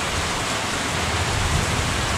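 Steady rain falls outdoors at a mountain home where flowers are being planted, a dense continuous hiss of drops on surfaces, even and fairly loud throughout with no voices.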